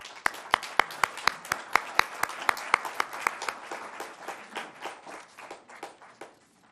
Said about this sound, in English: Please join me in applauding her receipt of this award.